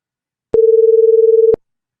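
Two combined harmony tones beat against each other, producing a single steady, trembling buzz about a second long that wobbles like a telephone ring, starting and stopping abruptly in silence.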